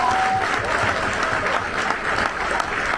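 An audience at a welcome celebration for Tokyo 2020 Olympic medal winners breaks into loud, sustained applause, a steady dense roar of clapping.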